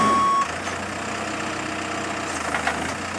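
A Komatsu four-wheel-drive backhoe runs with a steady, close engine drone, and a brief tonal beep is heard at the very start.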